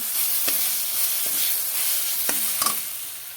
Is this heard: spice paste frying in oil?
yes